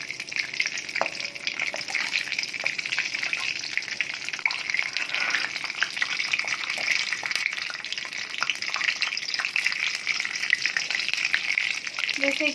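Cumin seeds sizzle in hot mustard oil in a pan, giving a steady, bright crackling hiss throughout with occasional scraping clicks from stirring.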